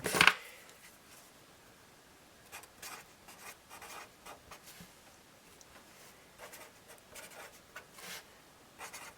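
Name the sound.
writing on a cash envelope with a pen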